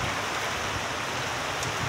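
Heavy rain pours steadily during a tornado storm in Guelph, overflowing eaves troughs, a dense even hiss that fills the whole stretch with no voices.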